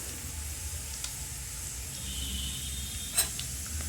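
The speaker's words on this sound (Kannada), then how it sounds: "ಇವಾಗ ಇದನ್ನ ಲೈಟಾಗೆ ಹಿಂಗೆ ಫ್ರೈ ಮಾಡ್ಕೊಳಮ್ಮಿ" Cinnamon, cloves, ginger and pepper fry in hot oil in a pan with a steady, close sizzling hiss throughout, broken near the end by a single sharp utensil clink.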